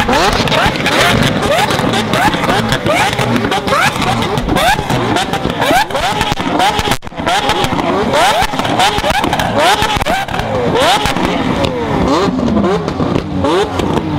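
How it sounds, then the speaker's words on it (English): Four Lamborghini Aventadors revving together, flame-spitting exhausts: loud, sustained roaring engines with repeated sharp rev swells and crackling pops throughout, close and dense, with voices and crowd noise under it. "We've lined up four Aventadors, they all spit flames, and they're all gonna rev at the exact same time"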